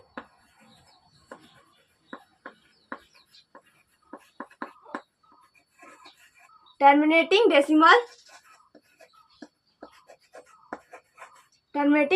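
A pen scratches and taps out a maths solution on paper in short, crisp strokes, mostly in a quiet room, with a brief burst of speech midway and again at the end.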